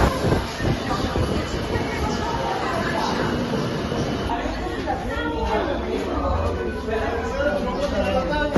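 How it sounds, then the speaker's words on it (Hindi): A Kolkata metro train at Esplanade station: rumbling rail noise and wheel sounds in an enclosed underground platform, mixed with the chatter of waiting passengers and nearby talk. "हम एस्प्लेनेड मेट्रो स्टेशन पर हैं और रविंद्र सदन की तरफ जाने वाली मेट्रो का इंतज़ार कर रहे हैं।"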